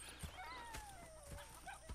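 Horses in the video game Red Dead Redemption 2 give a faint, close whinny with a few soft hoof thuds, quiet and alone.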